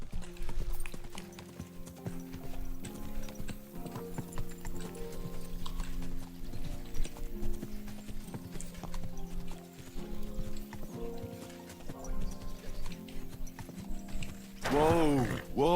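Steady rhythmic clip-clop of horse hooves in the video game Kingdom Come: Deliverance II over a continuous game soundtrack, ending with a brief whinny.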